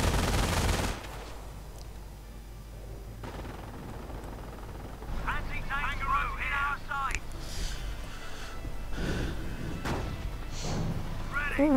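Machine gun fire from an MG bunker in a World War II strategy video game battle, bursts of gunfire and thuds mixed with other combat noise, running under continuous commentary.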